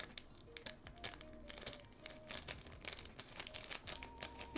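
Plastic bag crinkling and rustling as scissors cut into it, a steady run of close, crisp crackles with no talk.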